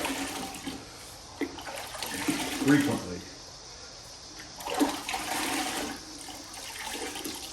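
A grout sponge is dunked and rinsed in a bucket of water during bathroom tile grouting, with splashing and sloshing that swell in two bursts under a voice.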